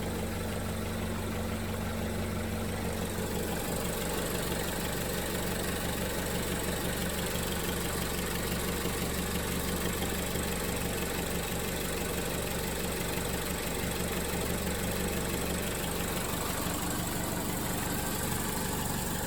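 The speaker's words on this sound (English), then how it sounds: "Just waiting for this radiator to get warm." A Vauxhall Corsa D idles steadily as it warms up, a continuous, even mid-low engine drone heard up close with no talking throughout.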